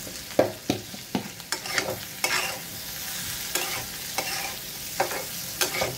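Okra, brinjal and potato sabzi frying in a pan with coriander powder, giving a steady sizzle broken by repeated scraping strokes of a spoon stirring, close up and without talk.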